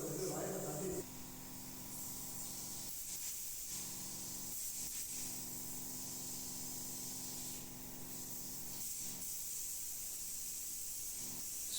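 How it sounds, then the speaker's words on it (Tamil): Steady hissing spray runs almost continuously for several seconds, with brief pauses, over a constant background hum. "இப்போ பாலிஷ் ஸ்ப்ரே பண்ணிடலாம்"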